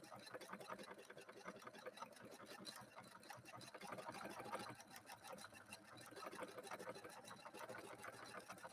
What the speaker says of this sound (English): I'll let it stitch this pattern twice, and then I'll hit the stop button.